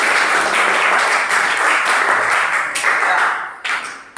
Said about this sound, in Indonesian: kita berikan aplaus untuk pelajaran kita pada hari ini